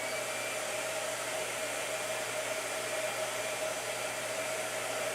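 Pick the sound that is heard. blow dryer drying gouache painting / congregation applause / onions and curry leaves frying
blow dryer drying gouache painting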